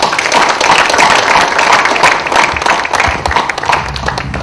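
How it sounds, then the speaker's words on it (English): Audience at a memorial concert for a classical singer gives a loud, dense round of applause, continuous hand clapping that stays close and steady throughout with no talking. "A round of applause for the memory of"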